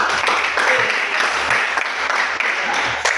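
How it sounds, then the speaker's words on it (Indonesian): A classroom of students applauds, producing dense, steady clapping that stays loud and even throughout. "berikan tepuk tangan"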